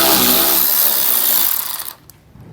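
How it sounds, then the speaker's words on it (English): A power tool with an 8mm socket spins loose a mud flap fastener on a car, a harsh continuous whirr close by for under two seconds before cutting off abruptly. "We'll use an 8mm socket or a Phillips screwdriver to remove the fastener here."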